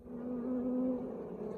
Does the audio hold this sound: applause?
no